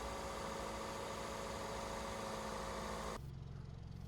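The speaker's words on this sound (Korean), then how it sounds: "차량의 시동을 건 상태에서 엔진 위에 물이 담긴 종이컵을 올려놓습니다." A used car's engine idles steadily during a pre-purchase inspection, a continuous low, even rumble that cuts off abruptly near the end, leaving only faint background hum.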